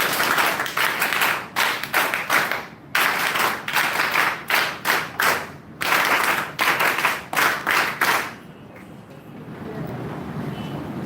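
An audience at a college NSS unit World Meditation Day event claps in a rhythmic group pattern, repeated bursts of synchronized claps in sets. The clapping stops after about eight seconds, leaving a quieter room hum.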